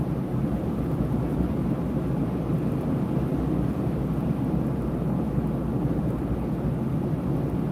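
Continuous deep rumble of a thunderstorm while storm chasing in Louisiana, a steady low roar with rolling thunder and wind buffeting, loud and unbroken with no speech.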